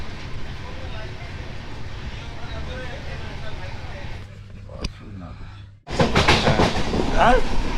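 Interior of a moving passenger train at night in North Bengal, a steady rumbling rattle of wheels and carriage that drops briefly, then surges back louder with harsher clatter and hiss.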